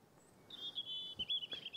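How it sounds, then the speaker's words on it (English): A European robin sings in a quiet Scottish woodland above Loch Voil, giving a bright, high, warbling phrase that runs steadily for over a second, close and clear against faint background hush. "you can probably hear the robin singing behind me."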